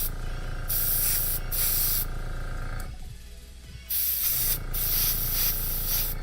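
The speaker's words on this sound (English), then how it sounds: "So right now it's just like the spray's not consistent." An aerosol spray paint can hisses onto a 3D printed part in loud bursts that stop and start unevenly, with a brief quieter gap in the middle of the clip.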